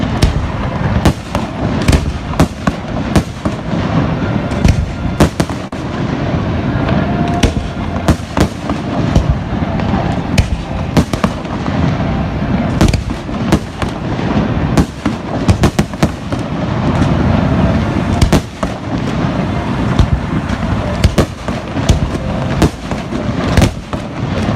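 A fireworks display finale at a Fourth of July celebration: a dense, continuous barrage of loud crackling bursts and booms with no pause, sustained for over twenty seconds.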